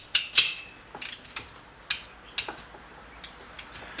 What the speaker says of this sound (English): Feels a lot nicer to do with a torque wrench.